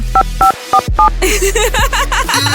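Telephone dialing: a series of two-tone keypad beeps in a halting rhythm, followed by a busier stretch of warbling electronic tones over a low hum.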